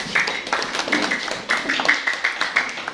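A classroom of students applauds a presenting group, with close, brisk rhythmic claps repeating at a moderate level for the whole moment and a few scattered voices beneath.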